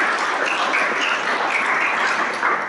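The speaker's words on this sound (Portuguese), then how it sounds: "Palmas antecipadas para a professora." An audience applauds a professor at a Brazilian cultural heritage talk in Brasília, producing steady, dense clapping from a room full of people at an even loudness throughout.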